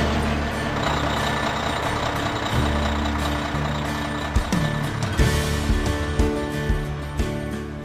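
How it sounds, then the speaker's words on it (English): A heavy diesel big-rig truck engine rumbles close by with hissing air brakes and engine surges, a steady low drone throughout. "Big rigs, other diesel trucks,"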